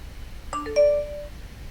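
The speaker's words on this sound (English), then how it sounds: "You should be hearing the first bell." A meditation interval bell rings in a quiet room as two quick, bright chime strikes, the second ringing out longer before it fades into near silence.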